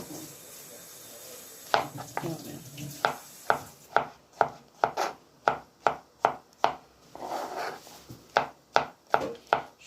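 Mushrooms are sliced into rings on a cutting board, about fifteen crisp knife chops in a fairly even rhythm, close and loud, after a few quieter rustles at the start.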